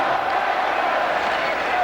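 A hockey arena crowd with divided loyalties jeers and shouts at each other during a Rangers at Islanders game, a continuous roaring wash of voices with a commentator talking over it.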